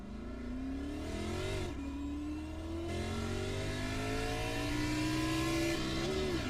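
A race car engine in a racing video game revs steadily and loudly with a rising, whining pitch. It shifts gears a couple of times across the clip and runs continuously without pause.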